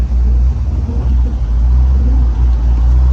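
A 1996 Mustang with a swapped engine and a tall cowl induction hood rumbles loudly and steadily from inside the cabin during a test drive, deep and continuous with no speech.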